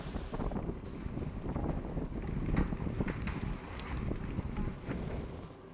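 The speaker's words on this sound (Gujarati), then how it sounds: "જામનગર શહેરમાં ભારે પવન સાથે વરસાદ વરસ્યો" Strong wind roars and buffets the microphone in continuous gusts during an unseasonal rainstorm in Jamnagar, Gujarat, with a low rumbling undertone and no voices.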